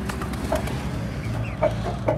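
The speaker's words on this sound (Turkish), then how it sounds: "Yeni gelen horozumuz." A newly arrived farm rooster gives a few short, soft clucks at scattered moments, set against a steady low background hum with no talking.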